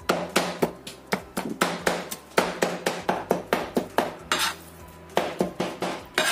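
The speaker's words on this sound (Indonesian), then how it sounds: "Setelah kita potong-potong seperti ini, kemudian kita cincang." Knife repeatedly chopping and mincing meat on a cutting board, after it was first cut into pieces, for an Indonesian eggplant dish; a steady run of loud, close, sharp chops with a brief pause near the end.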